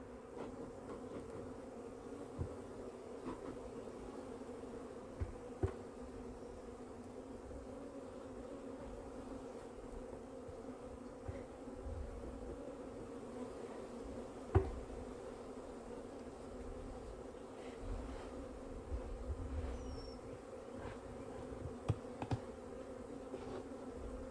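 Honeybees from a nucleus colony hive hum in a steady, close, continuous drone as the hive is opened, with occasional soft knocks and clicks and no talk.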